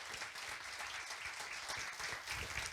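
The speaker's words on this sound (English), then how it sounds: "Round of applause." Audience applause fills a room at a community culture convention event, a steady, dense wash of many hands clapping continuously throughout, with no talk over it.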